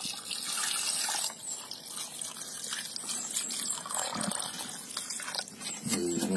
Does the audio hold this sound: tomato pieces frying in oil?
no